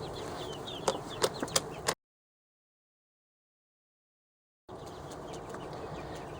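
Farmyard laying hens, one of them black, cluck in short bursts against steady outdoor background noise, with a silent gap in the middle before the ambience returns.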